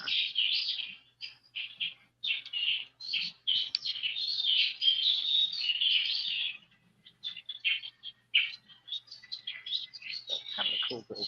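Birds chirp outdoors in Bangkok, bright overlapping tweets and trills in quick bursts with short pauses, clear and fairly near over a quiet background.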